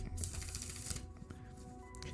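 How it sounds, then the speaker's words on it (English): A deck of painted playing cards with a matte finish being shuffled by hand, a quick papery riffle and flutter close to the mic, briefly and at low level. "I have to shuffle them up because they're not even shuffled"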